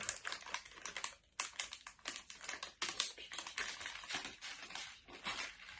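A slime container is opened with a dense, crinkly crackling of handled plastic that runs almost without pause, close and fairly quiet, with brief gaps.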